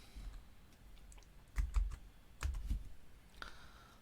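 Quiet keystrokes on a computer keyboard while entering a formula into an Excel spreadsheet, a few scattered soft clicks with pauses between them.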